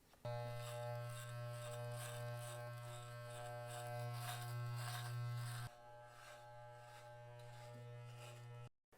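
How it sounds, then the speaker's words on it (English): Electric hair clipper fitted with a half guard trimming the back of the neck during a Caesar haircut: a steady, close, loud motor buzz running throughout, dropping slightly in level partway through, with no talking. "next I'm going to do the back of my neck, and I'm going to use a half guard on your clipper"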